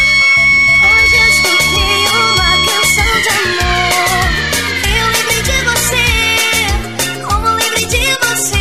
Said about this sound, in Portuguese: Vou ter que liberar a sirene aqui.